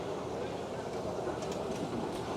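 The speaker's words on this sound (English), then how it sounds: "But let's hop onto the subway" A New York City subway train gives off a steady, loud rumble with broadband clatter that holds without a break, as if heard from inside a station or car.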